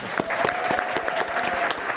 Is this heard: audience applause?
yes